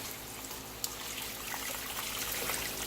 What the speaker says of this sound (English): I will usually use about 4 gallons of water